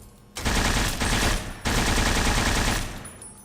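Sustained automatic gunfire from a 5mm weapon in the video game Tale of Two Wastelands, two loud continuous bursts separated by a brief break, with no talking.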